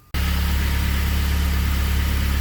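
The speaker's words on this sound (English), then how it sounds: "I just turned the engine on right now, and there it goes." Honda CRX fitted with a K24 engine catches and settles into a steady, loud idle right after start-up, a continuous low rumble with an even pulsing throb and no talk over it.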